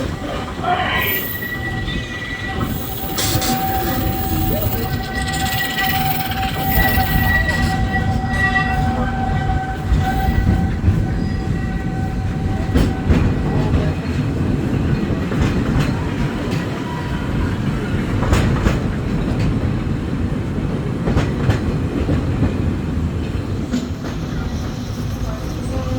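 Big Thunder Mountain, the old gold-mine-themed runaway train coaster at Walt Disney World, rattles and rumbles continuously, with clattering wheels, metallic squeals and a steady low roar throughout.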